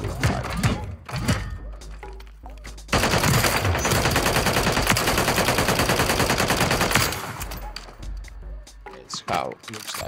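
Rapid automatic gunfire at the firing range in the video game MW3 Warzone, a sustained burst of a few seconds loud and close, framed by someone talking before and after.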